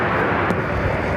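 Steady, loud broadband jet roar from a SkyWest Embraer E175LR regional jet arriving at Los Angeles International Airport, a continuous close rumble with no talk.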